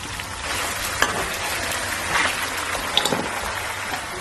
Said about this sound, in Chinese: 辣椒过下油